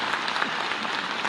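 Dense, loud applause from a large audience at an environment event at Ravindra Bhavan, steady and continuous throughout.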